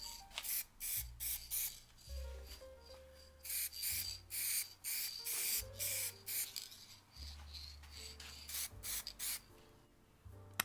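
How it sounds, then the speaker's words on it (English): A spray can applies a final coat of varnish to a small homemade wooden rack for a screwdriver socket set, with many short, close hissing bursts in an uneven rhythm and faint low knocks between them. "I decided to add a final coat of spray varnish."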